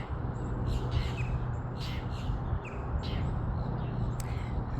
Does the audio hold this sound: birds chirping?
yes